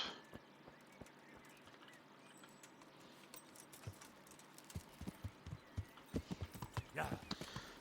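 Horse hooves clip-clop in a steady rhythm that grows louder and nearer over a quiet ambient background in Kingdom Come: Deliverance.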